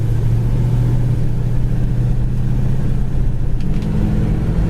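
A 1968 Buick GS 400 accelerates as the transmission kicks down, with a loud, close engine rumble that holds steady and then deepens in pitch near the end, with no talking over it.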